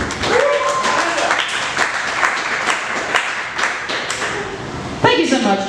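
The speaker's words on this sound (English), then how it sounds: "give a huge round of applause" An audience at a comedy show claps in a dense, steady burst of applause, with a voice calling out over it near the end.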